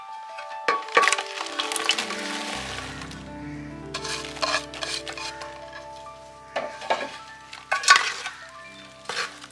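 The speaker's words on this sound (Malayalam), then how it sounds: "ഇനി നമുക്ക് നമ്മുടെ മാങ്ങ ഇതിനകത്തോട്ട് ഇട്ട് കൊടുക്കാം." Mango pieces for pickle are tipped into a bowl of chili powder and oil and stirred, giving clattering, scraping and wet mixing sounds in uneven bursts at close range.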